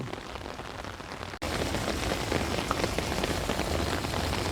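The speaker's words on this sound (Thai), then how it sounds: "นั่นฝนตกน้ำกระไหลตวดตวดตวดตวดตวด" Steady rain falling and pattering on surfaces outdoors, a dense, even hiss that gets a bit louder after a short break, with no voices.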